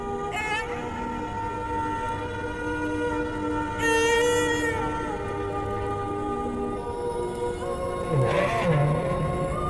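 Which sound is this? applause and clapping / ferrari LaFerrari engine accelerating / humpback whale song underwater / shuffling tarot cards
humpback whale song underwater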